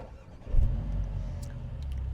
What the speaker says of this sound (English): Starting the vehicle up, I love this.